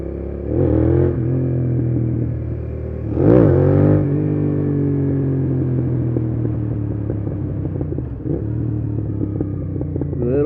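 A Suzuki SV650 motorcycle revs hard for small wheelies, its engine rising in two sharp throttle bursts over a steady close rumble and then settling into a lower, fluttering drone.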